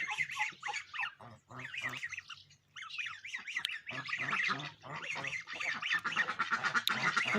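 A flock of geese with goslings on a village farm honking and squawking continuously, with higher young peeps mixed in, close by and fairly loud, no talking.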